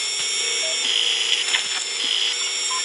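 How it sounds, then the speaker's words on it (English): A surgical drill whirs continuously in the video game Surgeon Simulator, a steady, high-pitched electric whine with slight wavers and a few soft clicks, close and loud throughout. "Okay, so drill right here."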